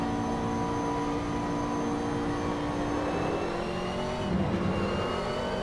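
A McLaren race car engine in the Assetto Corsa racing game drones steadily at high revs, its tone climbing gradually before a brief dip and gear change near the end.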